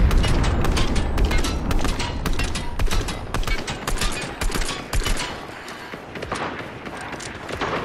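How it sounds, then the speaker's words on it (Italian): Gunfire from the Fortnite video game, dense bursts of shots and booms that keep going across the whole stretch, close and loud, with faint talk underneath. "Poi gli sparo un bel colpo."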